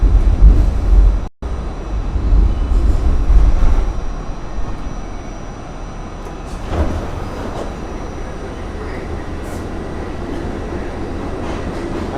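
New York City subway train, a G train to Astoria Ditmars Boulevard, rumbling loudly nearby with clattering wheels and a steady low roar throughout, no talking.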